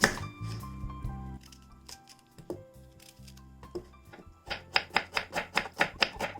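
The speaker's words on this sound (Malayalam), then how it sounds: "ഈ സവാള നമുക്കൊന്ന് സ്ലൈസ് ചെയ്തെടുക്കണം" A knife slices onions on a cutting board in a home kitchen, irregular cuts at first, then a quick rhythmic run of about a dozen crisp, close chops.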